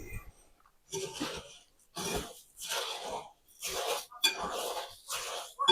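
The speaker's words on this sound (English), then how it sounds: "Just to whisk everything up, dry all the dry ingredients." Dry ingredients for protein bites are whisked in a bowl in several separate bursts of brisk scraping and clinking, each lasting under a second, with short quiet gaps between them.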